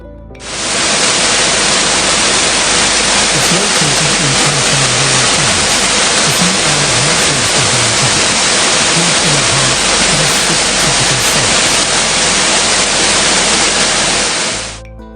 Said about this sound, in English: Hoi Mai Kamin is a waterfall most tourists have never heard of